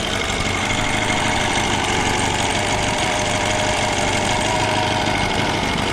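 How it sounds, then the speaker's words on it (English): A small outboard motor idles steadily at low revs, pumping water, a constant low rumble with a faint rhythmic knock, close by and alone for the whole stretch. "Still idling, super low, and still pumping water."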